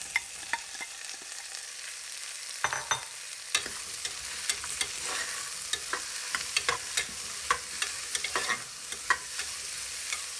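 Diced onions sautéing in a pot for a one-pot mutton curry, a steady sizzle broken by frequent sharp scrapes and clicks of a spoon stirring against the metal, close and fairly loud with no voices.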